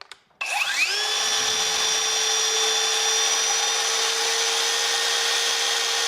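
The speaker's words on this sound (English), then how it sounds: "we pick up the Ryobi, and we're going to test it out right at the handle where you hold the saw" A Ryobi circular saw spins up and runs at a steady, loud whine with strong harmonic tones, held at the handle during a vibration test, alone without talk.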